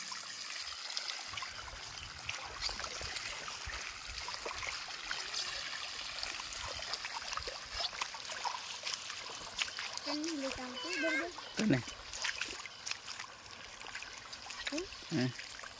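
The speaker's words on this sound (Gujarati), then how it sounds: "પાણીમાં એને સાયકલ હાંકવાની મોજ જ કંઈક અલગ જો" A bicycle is ridden through the shallow water of the Banas river, giving steady splashing and trickling for the whole stretch while people, including children, talk and call out over it.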